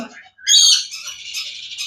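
A single loud, shrill yellow ringneck parakeet screech rises sharply, then trails into a thinner sustained call, close by, with no talking.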